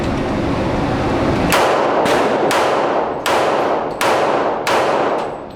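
Several gunshots from a 1911 pistol at a shooting range ring out as sharp cracks with ringing tails, five or six shots spaced irregularly, loud and close.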